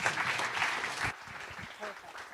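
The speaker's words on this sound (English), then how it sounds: "How about another round of applause for our friends from MMOR?" A crowd at a local pub talk event applauds presenters for about a second, then the clapping drops off abruptly and a voice speaks over the quieter room.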